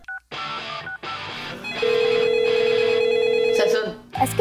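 A telephone rings in a French comedy sketch, a steady electronic tone sounding for a couple of seconds amid brief bursts of other sound, with voices or noise before it.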